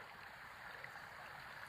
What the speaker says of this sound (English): the Lyle River coming out of it is flowing a bit faster now. Definitely more audible, that's for sure.